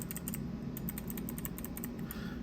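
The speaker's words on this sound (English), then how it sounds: "then you have the switch, which actually has a little fidget things on it. And then you can just click it." A mechanical keyboard switch fidget toy clicking rapidly and repeatedly in quick, light, crisp clicks, close and fairly quiet over a steady low background hum, with no talking.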